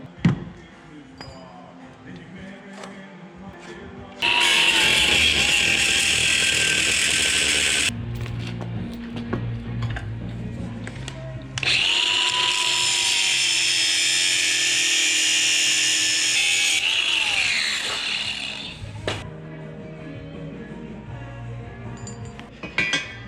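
A power tool cuts a notch into the top of a steel hitch tube for a Smart Fortwo trailer hitch, two long loud shrieking grinds of several seconds each, separated by a brief pause, with clinks and handling noise around them.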